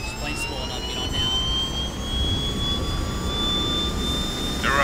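An aircraft engine in the Arma 3 military game drones steadily with a high whine rising slowly in pitch, loud and constant throughout as players board the plane, with brief voice fragments at the start.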